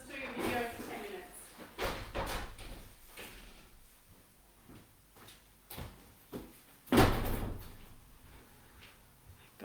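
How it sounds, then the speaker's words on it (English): Indoors, a door creaks and swings, then shuts with a single loud thump, among smaller knocks and handling noises, with a person talking intermittently throughout. "So let me just close my door."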